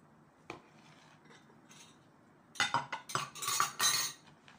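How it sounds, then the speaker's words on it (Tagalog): A utensil stirs macaroni salad in a bowl, giving several soft scrapes followed by a cluster of brisk clinks and taps toward the end. The sound is close and fairly quiet, with no voices. "Haluin lang natin para mag-mix."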